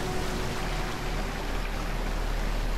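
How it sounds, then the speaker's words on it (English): A waterfall in the video game Risen rushes as a steady, dense wash of falling water, constant and fairly loud, with no talk over it. "Oh, that waterfall is so loud!"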